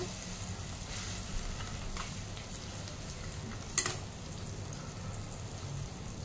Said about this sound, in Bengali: এবার এটা একটু ভালো করে মিশিয়ে নেব